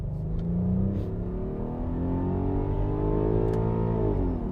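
A 3.2 FSI Quattro Audi A6 C6 at full throttle, the engine revving steadily higher in a loud, continuous climbing drone heard from inside the car, with no talk.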